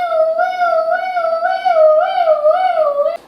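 A voice imitates an ambulance siren with a sustained, wavering wail held for about three seconds, loud and close, with no other sound.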